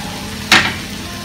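Shrimp with salt, coriander and cumin sizzles in a pan, a steady close fry broken by one brief scraping stir.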